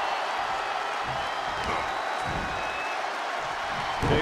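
Arena crowd noise from the WWE 2K23 wrestling game during a Brock Lesnar match, a steady dense roar of cheering and applause held at a constant level with a slight lift at the end.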